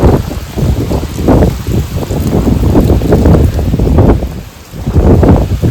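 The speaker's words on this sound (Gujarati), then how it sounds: "એટલો પવન આવવા લાગ્યો છે ને વરસાદ હવે છાંટા ચાલુ થઈ ગયા છે" Storm wind and rain at the start of a cyclone, loud gusting roar buffeting the microphone in surging waves, with rain and rustling trees beneath, continuous throughout.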